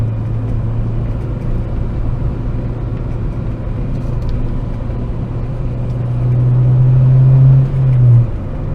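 A car's engine drones steadily while driving, a low constant hum that rises into a louder, strained pull near the end before easing back, with no talk over it.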